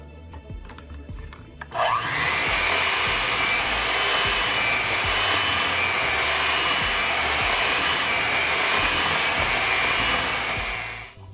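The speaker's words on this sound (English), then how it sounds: "So add 1 at a time and blend." A mixer blends eggs one at a time into buttermilk pie batter, a steady loud whirring motor that starts after a brief pause and runs continuously to the end.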